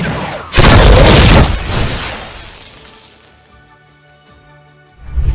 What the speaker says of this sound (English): Han attempted to destroy it, only to have droid activate its self-destruct mechanism